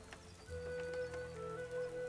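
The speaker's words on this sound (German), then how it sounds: "Der Regen hat nicht nachgelassen und prasselt immer noch auf das Holzdach." Rain pattering steadily on a wooden roof, a continuous soft hiss of drops that swells slightly after the first half second, with no voices.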